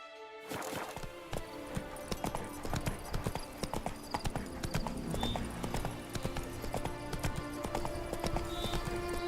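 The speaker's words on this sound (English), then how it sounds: "Whoa there, Roach." Horse hooves clip-clop at a gallop in the open-world video game Witcher 3, a steady fast rhythm running the whole time, fairly close, with a brief whinny and some game ambience mixed in.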